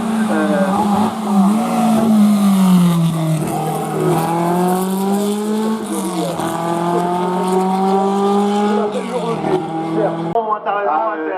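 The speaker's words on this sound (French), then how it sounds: "Ça tourne comme une horloge là quand ça démarre. C'est un moteur de F2 dedans" Hill-climb race prototype with a Formula 2 engine starting and idling, a steady low engine note with rising harmonics as revs climb, loud and close, with people talking nearby.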